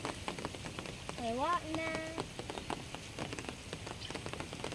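Rain falls steadily on a surface outdoors, a continuous hiss of drops with scattered patter, while people talk and a voice briefly calls out over it.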